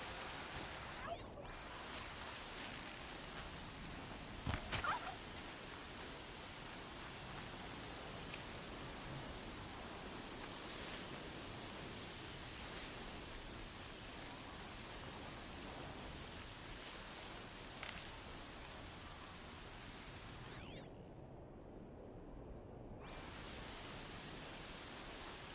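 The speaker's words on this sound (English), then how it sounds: "Now it's all rainy, it's hard for me to tell what's going on." Steady, quiet hiss of rainfall in the video game Horizon Zero Dawn, with a few faint taps and clicks, broken by a short drop-out near the end.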